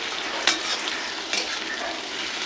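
Onions and spices frying in a pan for chicken curry, a steady close sizzle with two sharper scrapes of a spoon stirring through, no voices.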